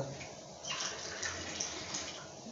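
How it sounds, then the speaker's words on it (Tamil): Water pours into a new electric mixer jar holding garlic for chutney, a short, soft splashing stream that starts after a brief pause and runs to the end. "தண்ணி ஊற்றிக்குங்க."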